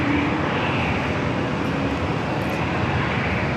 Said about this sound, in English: Wind 170 at speed, runway 27, clear for takeoff.